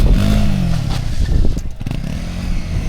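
A straight-piped Mustang GT with a 10-speed gearbox, heard from inside the car, lets out loud, close exhaust burbles: a rough low rumble broken by crackling pops and sputters.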